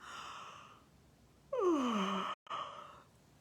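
A long drawn-out vocal yawn slides downward in pitch, set against a soft musical backing, followed by a brief pause.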